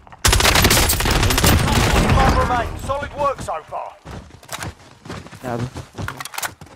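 Dense, loud automatic gunfire in Call of Duty: Warzone rattles for a couple of seconds, then scattered shots and thuds follow while someone talks over it.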